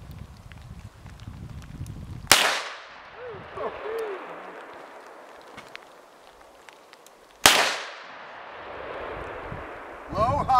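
Two loud sharp gunshots from a .41 caliber pistol at an outdoor shoot, several seconds apart, each followed by a decaying echo, with people talking and reacting in between.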